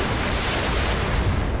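Mech weapons in the Roguetech video game fire in a single rumbling, explosive blast, loud and broad, filling the short moment without any voices.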